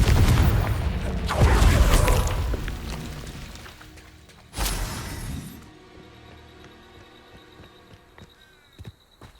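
Confringo blasting spells go off in Hogwarts Legacy, a dense, loud roar of booming blasts and crashing debris that fades, then one sharp second explosion, followed by a quieter hum with faint clicks.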